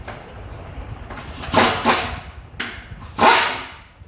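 Two sharp metallic strikes land about a second and a half apart, loud and close, with a smaller knock between them, like hammering on a stuck bolt.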